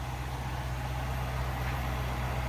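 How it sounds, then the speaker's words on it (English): A Mercedes-AMG GLE63 S Coupe or Range Rover SVR luxury SUV idles with a steady, low engine rumble and a constant hum, heard alone with no talk. "Very impressive engine."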